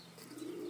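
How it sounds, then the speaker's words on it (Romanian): A pigeon gives a short, soft coo that rises slightly and swells toward the end, faint against a quiet background. "porumbei"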